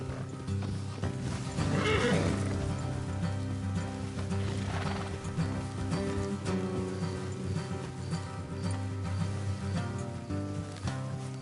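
In a video game, Red Dead Redemption 2, horses whinny loudly over a steady background of clip-clopping hooves and ambient music, with a second neigh a couple of seconds later.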